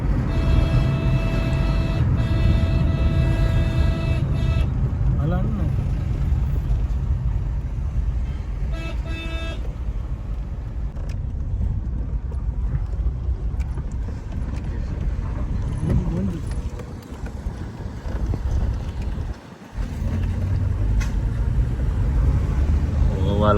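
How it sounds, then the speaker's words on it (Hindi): Dense highway traffic beside a road under construction, a steady loud roar of engines with occasional horn toots, heard from inside or near a moving vehicle with talk over it. "ये देखो ट्रैफिक, कितनी ज़्यादा ट्रैफिक है।"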